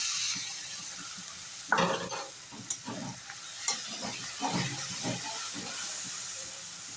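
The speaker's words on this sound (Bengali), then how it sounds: "এবার মশলাটা ভালোভাবে কষানোর জন্য একটু জল দিয়ে দেবো" Spiced masala frying in a pan for a white chicken curry, with a burst of steamy hiss and sizzle as a little water goes in, followed by scattered stirring scrapes over steady frying noise.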